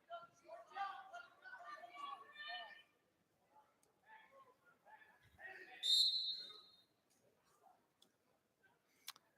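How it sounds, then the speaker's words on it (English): A referee's whistle gives one sharp, shrill blast to end the first period of a middle and high school wrestling match, standing out over commentary and gym chatter. "Whistle blows. That'll end the first period."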